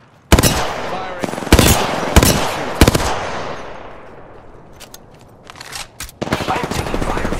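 Gunfire in the video game Apex Legends: several sharp, loud bursts of automatic fire in quick succession early on, a quieter stretch, then renewed shots and clattering toward the end.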